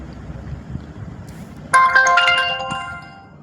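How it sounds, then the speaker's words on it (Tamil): A phone message notification tone sounds partway through a Tamil face-painting session for a Sooran costume. It is a bright chime with several tones that stands out clearly over low background noise. "அடிக்கடி வேறு மெசேஜ் வந்துக்கிட்டே இருக்குது"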